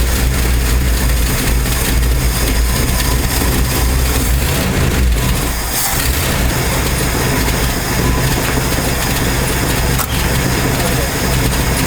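A 1968 Ford F250 pickup with a 390 FE V8, flooded on a rough start, now running and warming up: a loud, steady, close engine rumble that continues throughout with little change.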